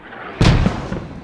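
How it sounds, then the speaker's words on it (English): A single mortar round lands in the Post Scriptum video game, a sudden deep, booming thud with a short rumbling tail, loud and fairly close. "they're mortaring the attack itself"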